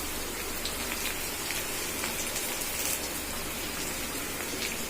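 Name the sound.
curry leaves sizzling in hot oil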